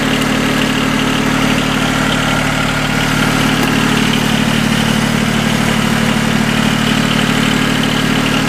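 A John Deere 850 diesel tractor engine idles steadily, a loud, close, continuous low rumble that holds even from start to finish with no talk.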